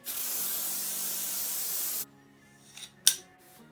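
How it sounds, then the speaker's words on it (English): Hairspray sprays from a can in one steady hiss lasting about two seconds, close and fairly loud, then stops. A couple of soft rustles and a sharp click follow. "So this is my hairspray hack."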